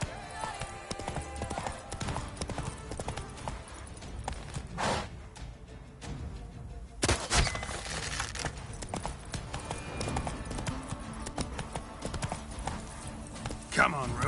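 Roach, the horse in The Witcher 3: Wild Hunt, gallops with quick, continuous clip-clop hoofbeats, loud and close, while someone talks at intervals over the running.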